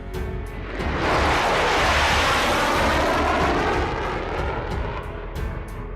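F-35A fighter jets taxiing during an Elephant Walk drill produce a loud, rumbling jet roar that swells to a peak and then eases back, close and continuous, with no voices.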